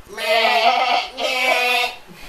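At a Christmas party, a person imitates a sheep with two loud, wavering vocal bleats close to the microphone, each lasting under a second with a brief break between them.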